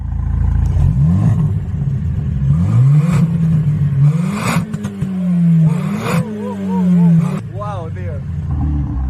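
A 500 hp car's engine revs hard and accelerates in loud, repeated surges that rise and drop as it shifts, heard close up, with voices talking in between.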